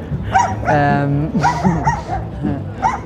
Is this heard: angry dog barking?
yes